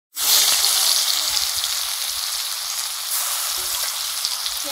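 Eggplant frying in hot oil with dried chili and black cumin dropped in, a sudden loud hiss that settles into steady close sizzling with faint stirring clatter.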